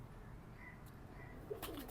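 Soft cooing from a pigeon in a pigeon-keeping setting, faint low calls over a quiet background with a brief flutter near the end.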